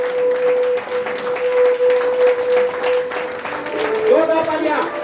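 Audience applause welcoming guests Sukhjeet Singh Uppal and Pawandeep Arora at a seminar, sustained clapping running throughout with a steady tone and voices underneath.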